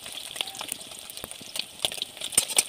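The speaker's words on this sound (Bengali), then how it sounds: "তেল দিয়ে ডিমটা লাল লাল করে ভেজে নেব" An egg frying in oil in a pan, a soft, continuous sizzle with scattered small crackles and pops, close by and fairly quiet, with no talk over it.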